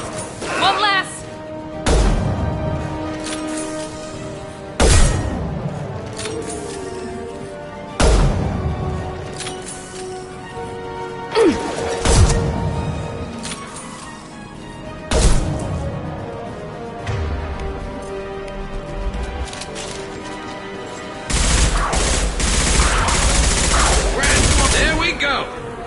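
Gunfire in a Mass Effect 2 firefight: loud bursts of shots and impacts repeat every few seconds among heavy blasts, with a denser rumbling barrage near the end and occasional voices mixed into the battle.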